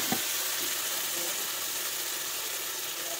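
Spice masala frying together with cauliflower and potatoes in a pan makes a loud, continuous, close sizzle, with one small knock right at the start.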